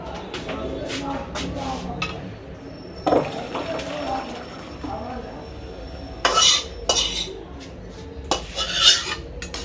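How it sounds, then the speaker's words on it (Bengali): A pot of cooked lentils (dal) is lifted off a gas stove with several loud metallic clanks and scrapes of utensils. Quieter rattling fills the gaps, and a voice may be faintly present in the background. "ডাল হয়ে গেছে, ডালটা নামাই।"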